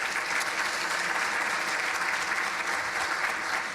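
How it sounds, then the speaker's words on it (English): An audience applauds at a conference event, a dense, steady wash of clapping from many hands that holds evenly throughout without talk. "Sam, let's give you a round of applause, too."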